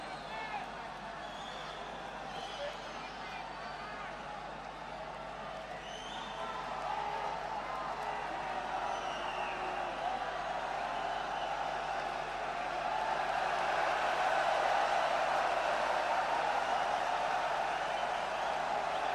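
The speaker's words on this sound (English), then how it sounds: "And a bit of crowd noise as a linesman gets changed." Crowd noise rises at a men's doubles badminton match between Indonesia's Eddy Hartono and Rudy Gunawan and Malaysia's Razif and Jalani Sidek during a linesman change. It is a distant, steady murmur that swells gradually, with speech over it.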